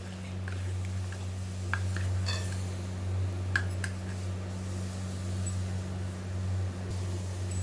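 Gram flour is stirred into ghee in a pan for Mysore pak, giving a few sparse, faint metallic clinks and scrapes over a steady low kitchen hum.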